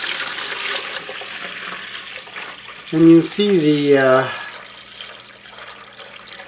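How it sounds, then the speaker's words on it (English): Water is poured off the top of a settled ormus manna mixture, giving a steady soft splashing and trickling that continues while someone talks briefly over it. "And pour the top water right off."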